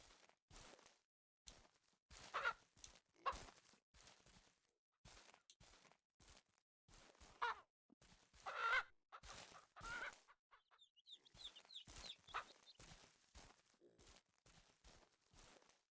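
Chickens in the Ranch Simulator Southwest farming game cluck in quick repeated bursts throughout, fairly close and clear, with brief pauses between calls and no talking over them.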